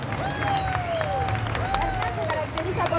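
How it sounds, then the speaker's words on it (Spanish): Applause and cheering from a crowd at a cosplay game show stage event, a steady dense burst of clapping with voices calling out and sliding whistles over the top. "por favor, un fuerte aplauso para él"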